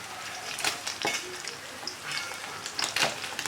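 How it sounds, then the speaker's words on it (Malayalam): Anchovies deep-frying in hot oil with curry leaves, a steady close crackling sizzle with bursts of spattering as the fish is stirred and turned. "ഇടയ്ക്ക് നമുക്കൊന്ന് തിരിച്ച് മറിച്ചൊക്കെ ഇട്ട് കൊടുക്കാം. അപ്പോൾ നല്ല ക്രിസ്പി ആയിട്ട് വറുത്തെടുക്കാൻ പറ്റും."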